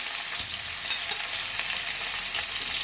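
Chopped onions hitting hot oil with cumin in a pan, giving a loud, steady broadband sizzle and crackle throughout, close up with no talking.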